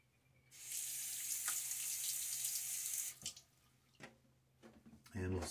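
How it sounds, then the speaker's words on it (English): Water runs from a tap into a sink while preparing a shave, a loud steady gush for a few seconds, then it stops, followed by splashes and small handling sounds. "And a little splash of water now."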